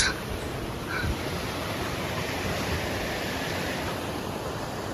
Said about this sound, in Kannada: ಜೋಗಿನಿ ವಾಟರ್ಫಾಲ್ಸ್ ಹೋಗೋ ದಾರಿಲಿ ನೋಡಿ ಎಷ್ಟೊಂದು ನೀರು ಬರ್ತಾ ಇದೆ ಅಂತ